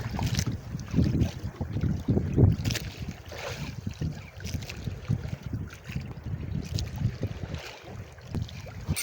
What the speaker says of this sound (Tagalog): Lumilipad na yung dulo ng bangka.